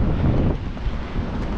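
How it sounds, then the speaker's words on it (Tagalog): Strong winter wind high up buffets the microphone continuously, a loud rumbling roar with no voices. "sa taas po ay napakalakas po ng hangin"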